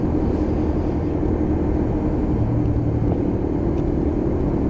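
A Lexmoto LXR 125cc Euro 4 motorcycle on a test ride gives a loud, constant engine and road rumble with a thin whine riding on top, unbroken for the whole stretch.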